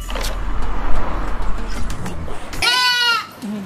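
A goat on an animal transport truck bleats once, a loud wavering cry, right after a rumbling vehicle engine cuts off.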